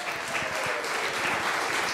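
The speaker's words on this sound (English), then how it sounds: "Big round of applause." A church audience at a Lutheran congregation in Kalispell, Montana applauds in a steady, fairly quiet round of clapping that holds evenly across the moment.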